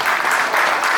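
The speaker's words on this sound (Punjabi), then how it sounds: "ਪਹਿਲਾਂ ਤਾਂ ਤਾੜੀਆਂ ਮਾਰੋ ਜੀ" Sustained applause from the audience at a press conference for a touring bhangra stage musical, a dense, even wash of clapping with no voices over it.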